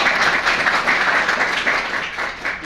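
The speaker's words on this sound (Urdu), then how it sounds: "ان کے لیے بھی تالیاں ہونی چاہیے." Sustained audience applause at a community gathering held at a local institution, a dense, steady wash of many hands clapping at close range with no voices on top, slowly thinning toward the end.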